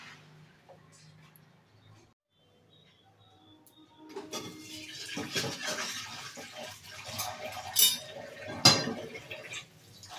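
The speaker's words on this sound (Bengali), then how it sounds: "কড়াইটাকে ভালো করে ধুয়ে নিই।" A kadai is rinsed with water: quiet at first, then splashing and running water with scraping and metallic clinks of the pan, close and moderately loud.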